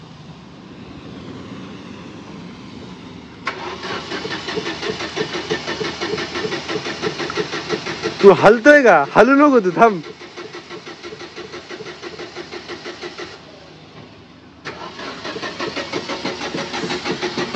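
A vehicle engine left unused for many days cranks repeatedly, with long buzzing starter bursts separated by pauses and a rougher sputtering stretch in the middle; a voice speaks briefly nearby.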